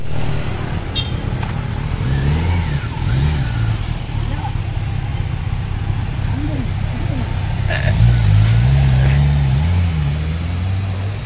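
Kawasaki ZX10R and Z900 sport motorcycles rev and pull away for an evening ride, engine drone steady and close with rising and falling revs, a louder surge near the end, and people talking over it.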